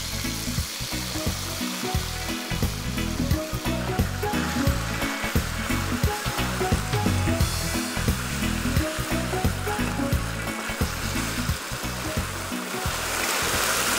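Beef sizzling and frying in hot oil in a preheated pan for beef chow fun, a loud steady crackle with intermittent clatter from stirring, alone with no talk.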